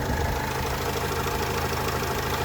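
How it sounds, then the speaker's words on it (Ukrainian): A 2013 Renault Trafic van's 2.0-litre 115 hp engine idles steadily close by, a continuous low rumble with an even, slightly knocking rhythm and no other sounds. "Моторчик працює відмінно."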